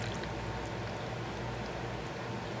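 Homemade brown sugar syrup pouring steadily into a container, a continuous close liquid stream with no breaks.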